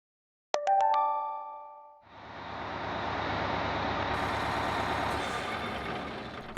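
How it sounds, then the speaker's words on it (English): A school bus pulls up after a few bright chime tones, its engine rumbling steadily with a broad hiss of air and road noise that holds for several seconds before a sharp sound at the end. "At last, the bus arrived."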